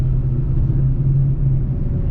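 Terminator Cobra car with 100k miles pulling up slowly near a lake, its engine giving a steady, deep, loud rumble up close with no talking.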